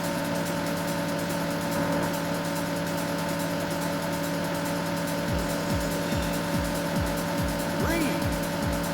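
Race car engines in a Sega racing game running on a Raspberry Pi 4, holding a steady electronic engine drone with a string of quick revving sweeps from about the midpoint on.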